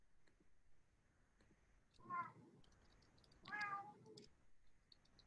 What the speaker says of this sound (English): I think my cat's about to join us